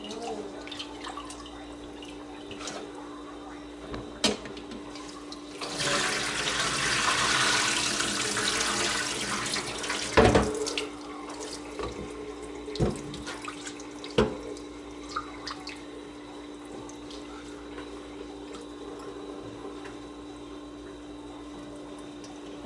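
Tap water runs into a sink while rice is washed and sieved for Nigerian jollof rice, a steady splashing stream swelling for several seconds in the middle, with drips, clinks and light handling noises around it.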